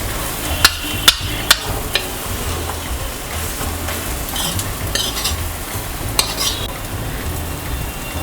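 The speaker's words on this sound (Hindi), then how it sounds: "इसको 1 से 2 मिनट तक भूनेंगे।" Spice masala for Punjabi chole roasts in a pan while a spoon stirs it, giving sharp scraping clicks early over a constant close sizzle, with more scraping near the end.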